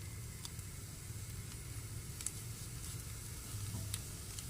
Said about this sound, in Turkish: Ve alt üst kızartalım.